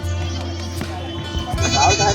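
Goats bleat at a crowded village goat market in Purna, Parbhani district, a loud continuous call over a dense hum of market chatter and voices nearby.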